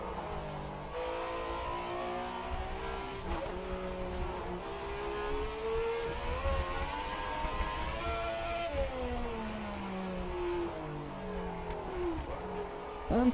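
A 1967 Formula 1 race car in a sim racing game at Monaco, engine revving up and down through gear changes, with abrupt shifts between on-throttle and off-throttle tones, steady and close throughout.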